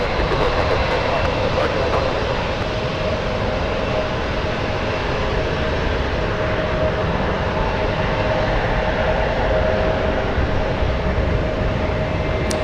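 Airliner landing in a crosswind at San Francisco International Airport, a loud steady jet engine roar with wind rumble that holds evenly throughout, heard from a nearby plane-spotting position.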